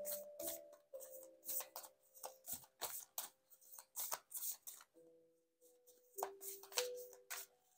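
Oracle cards shuffled by hand during a cartomancy reading, heard as repeated close, crisp bursts of riffling and slapping with short pauses between them and no talking.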